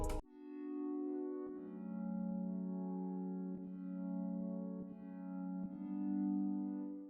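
Sustained, layered synthesizer keys chords, including an Analog Lab East Keys sound, with rich harmonics, shifting to new chords every second or so, steady and alone without any voices.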